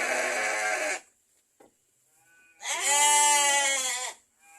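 Sheep on a village farm in West Java bleat twice, a loud close cry, a short pause with a faint knock, then a longer wavering bleat, with no voices.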